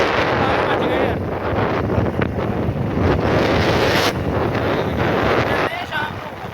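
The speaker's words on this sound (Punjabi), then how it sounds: "ਹਵਾ ਚੱਲ ਰਹੀ ਹੈ ਠੰਡੀ" Cold wind gusting hard and steady across a microphone outdoors on a farm, a loud, continuous roar with buffeting swells that persists for several seconds.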